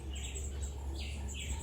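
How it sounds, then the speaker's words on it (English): Birds chirp at a bird sanctuary in Jamaica, bright repeated tweets and short calls rising over a steady low background hum, fairly faint and without speech. "Oh, this is a beautiful bird, this is."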